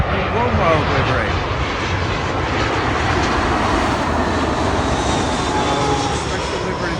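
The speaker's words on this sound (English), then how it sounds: "British Airways A320 from Dublin in One World livery." British Airways Airbus A320 from Dublin in Oneworld livery at Heathrow, a steady, broad roar of jet engines close by that holds level throughout, with no one talking over it.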